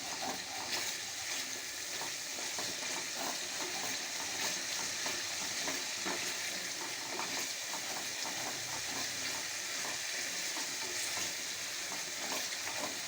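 Food cooks in oil in a pan while being stirred until the oil separates, producing a continuous soft sizzle and faint scraping, fairly quiet and without talk.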